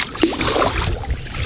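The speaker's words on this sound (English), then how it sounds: "Just paddling to a tropical island." Kayak paddle stroking through calm water on a winter island camping trip, close splashes and dripping with a brief watery swirl, moderately loud, no voices.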